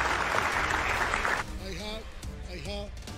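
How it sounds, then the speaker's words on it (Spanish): Applause from a studio or event audience on a Cuban news programme, a dense wash of clapping for about a second and a half that breaks off into someone talking. "Un gran aplauso fuerte para él."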